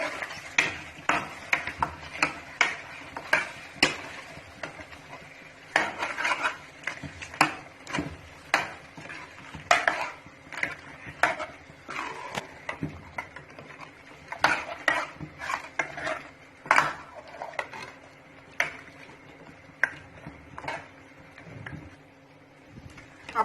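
Spoon scraping and clinking against a pot as marinated chicken is stirred into a Punjabi-style home-cooked gravy, irregular close taps and scrapes recurring throughout with no talking.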